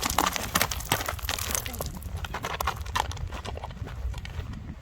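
Hooves of a stallion clip-clop in a quick, uneven rhythm of sharp close knocks while people talk over them.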